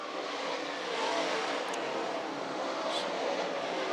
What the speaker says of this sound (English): As they work it down the back straightaway, Nick Webb, Brian Hudson, 1 and 2